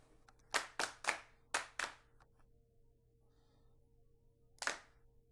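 Programmed MIDI drum-kit clap samples in a quick rhythmic run of five claps, a pause, then one final clap, dry and near with no voices.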